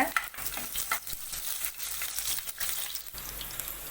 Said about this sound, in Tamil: அதையும் சேர்த்துக்கிறேங்க நெய் நல்லா கலந்து விடுங்க